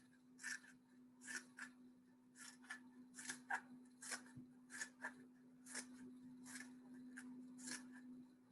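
Scissors snip through a cardboard toilet paper roll for a painting craft, a series of about fifteen short crisp cuts in an uneven rhythm, close and quiet, over a faint steady hum.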